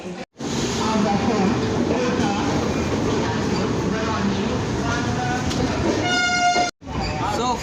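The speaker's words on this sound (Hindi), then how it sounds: "अपने ट्रेन का डिपार्चर ऑन द टाइम हो गया। ये ट्रेन चली हुई है इस साइड।" Bihar Sampark Kranti express train pulling out of the station, a steady loud rumble of rolling wagons with a brief horn-like tone near the end.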